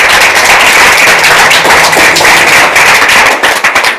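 Loud, dense applause from an audience at a college quiz event styled on Kaun Banega Crorepati, rapid overlapping claps filling the whole stretch and thinning slightly at the very end.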